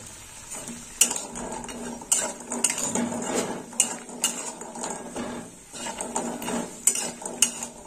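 Lentil dumplings (bori) fry in hot oil over raised heat while a metal spoon clinks and scrapes the pan in repeated strokes above a low sizzle.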